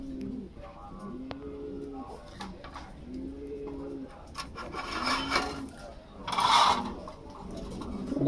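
A yellow Lahori pigeon from an adult pair coos in several low, rounded calls nearby, and bursts of rustling and scraping from the bird's movement rise up in the later part.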